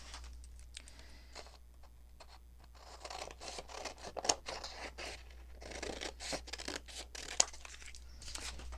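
Scissors snip through grungy paper for junk journal crafting, quiet close crisp cuts and rustling in irregular bursts with brief pauses between strokes.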